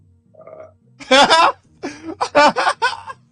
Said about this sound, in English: Turns to the corner, burps.